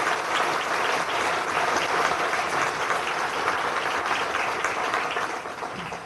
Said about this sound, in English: a quick round of applause for all that you do for the city